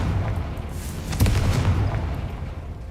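A Confringo blasting curse bursts in a Harry Potter video game, a loud booming explosion with a sharp crack and a rumbling low tail over steady background game ambience.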